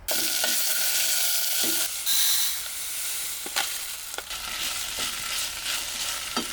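Quinoa, soy doner fake meat, onions and tomatoes sizzling steadily in a pan in a van, loud close frying hiss with intermittent stirring scrapes and clinks.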